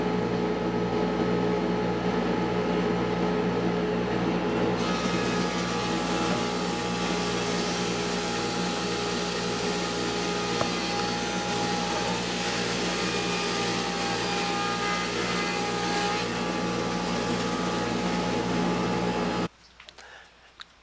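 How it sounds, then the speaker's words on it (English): Wood planer fitted with a helical cutter head of carbide inserts runs steadily as stock feeds through, a loud continuous whine and roar that rises after a few seconds and cuts off abruptly near the end. "I got a helical cutter head that uses carbide inserts, and it just makes the planer work a ton better."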